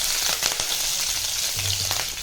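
Mustard seeds splutter in hot groundnut oil in a kadai, a close, loud, steady sizzle dotted with sharp crackling pops throughout, with no talking.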